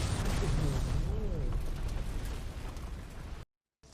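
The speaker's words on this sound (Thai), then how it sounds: "เออรถระเบิดทีนึงไป" A car blows up in a scene from The Last of Us TV series, a loud roaring blast and rumble that trails off over a few seconds before cutting to silence, with voices heard over it.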